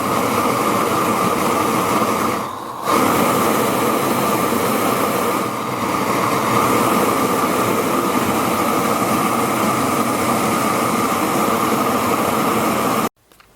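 A homemade super-sized propane jet burner, adjusted by a ball valve, roaring loudly and steadily up close with a brief dip twice before cutting off abruptly at the end.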